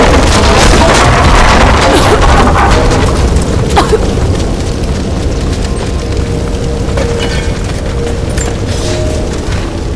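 Ancient vessels of Greek fire burst in Rise of the Tomb Raider, giving a loud, sustained roaring boom that rumbles on and slowly settles into a steady fiery rush with scattered crackles.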